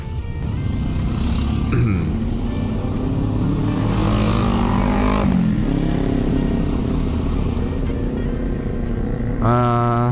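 A loud, rumbling motorcycle with a large aftermarket exhaust drones steadily at close range amid traffic noise on a damaged road, with a brief rev near the end.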